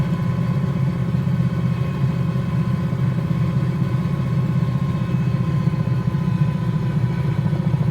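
Steady, continuous engine and rotor drone of a 222B helicopter in the Cowansim flight simulator game, with one engine shut off for autorotation, a constant low hum at even loudness throughout, no talking.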